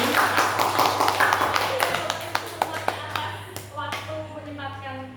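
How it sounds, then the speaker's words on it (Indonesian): An audience at an Indonesian community event claps for Bu Irma, a burst of close, dense hand claps that thins out into a few isolated claps, with a low steady hum underneath. "Ya, tepuk tangan untuk Bu Irma sekali lagi."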